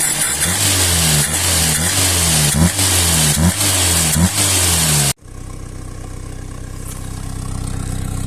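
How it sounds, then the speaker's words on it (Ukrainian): A VAZ 21081 car engine runs nearby after carburetor repair, with an even, rhythmic pulse and clean exhaust, then cuts abruptly to a quieter, steady hum. "Ось такий у нас вихлоп, чистенький, нічого не пухкає, рівнесенько працює."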